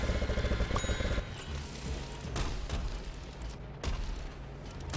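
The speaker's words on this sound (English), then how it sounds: "Who else is firing at my guy?" Gunfire from Plants vs. Zombies: Garden Warfare 2 sounds as a few sharp, scattered shots over a clattering mechanical game backdrop, moderately quiet and with no voices.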